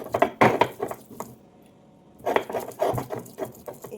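Ripe pointed gourds (potol) being cut with a knife, sharp close chopping taps and scrapes in two bursts separated by a pause, no talking.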